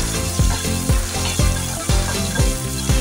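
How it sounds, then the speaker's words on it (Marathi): Finely chopped tomato sautéing in hot oil with curry leaves in a pan, a steady close sizzle broken by regular rhythmic scraping strokes of stirring about every half second, with no talking. "आता आपण घालूया 1 बारीक चिरलेला टोमॅटो, परतवून घेऊया"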